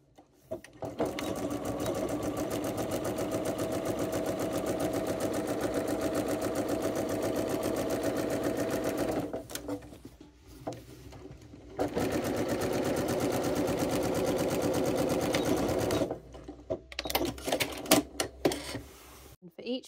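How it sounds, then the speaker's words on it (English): A sewing machine stitches the inseam pocket seams of a shift dress, running in a steady rapid whirr for long stretches, pausing briefly, then resuming before a few short stops and starts. "We're then going to go to the machine and stitch just between those notches"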